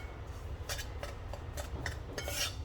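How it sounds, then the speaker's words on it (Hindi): Wheat flour being stirred and roasted in a pan over a low flame, a spoon scraping and clicking against the pan in a steady series of light strokes, close and quiet, with no talk. "बस इसे हमें लो फ्लेम पर इस तरह से भूनते रहना है, इस तरह से चला चला कर"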